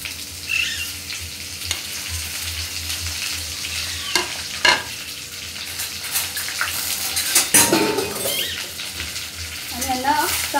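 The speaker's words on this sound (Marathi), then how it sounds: "चांगले परतून घेऊया।" Eggplant fries in oil coated with leftover ground spice paste for a khar vang dish, a loud close sizzle with intermittent stirring scrapes and clatters, and a brief voice or two in the background.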